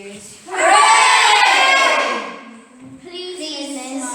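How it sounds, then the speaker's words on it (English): Children in a school Christmas concert audience give a loud, close cheer that swells for about two seconds, then fades, followed by a second, softer burst of young voices. "Everyone gave a cheer."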